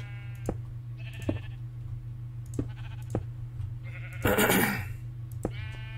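Sheep bleat repeatedly in a Minecraft barn holding sixteen sheep, short separate calls spaced through the clip over a steady low hum, with one louder, noisier burst near the end.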